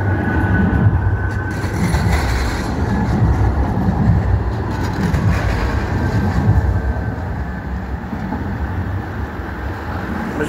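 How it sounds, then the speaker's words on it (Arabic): Istanbul metro train running, a steady loud low rumble with rail noise throughout, close and continuous with no talk. "هذا هو المترو."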